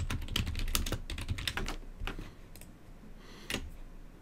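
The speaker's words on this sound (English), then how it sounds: "I'm just going to start typing on the keyboard" Fingers type on a computer keyboard while a flowchart is drawn in Microsoft Visio, a quick run of close, crisp key clicks that thins out toward the end with a last isolated tap.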